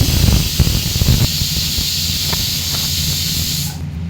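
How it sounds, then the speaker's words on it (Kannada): A kitchen pressure cooker, cooking vegetables for sambar, vents steam in a loud, steady hiss with some low rumbling at the start. The hiss holds for nearly four seconds, then cuts off abruptly. "ಈಗ ಕುಕ್ಕರ್ ಕೂಗಿದ್ದಾಗಿದೆ"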